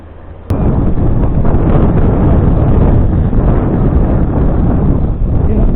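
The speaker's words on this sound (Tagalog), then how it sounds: "Sa lakas ng hangin, abot sa amin ang ampias ng tubig galing sa fountain" A sudden loud gust of wind hits the microphone while cycling past a fountain in Korea and stays as a heavy, continuous roaring buffet that swamps everything else.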